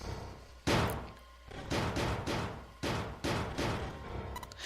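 A fist slams repeatedly against a door in the mystery game 9 Hours 9 Persons 9 Doors, giving a series of loud, hollow thuds in an irregular rhythm, close and alone with no talking.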